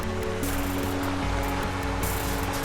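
Water rushes and gurgles steadily, a constant broad flowing sound with no talking, as Bright Angel Creek in the Grand Canyon runs close by.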